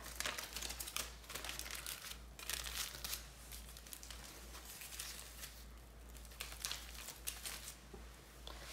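Hair-highlighting foil being folded against the scalp at home: steady close crinkling and rustling of thin metal foil, fairly faint, with no talk.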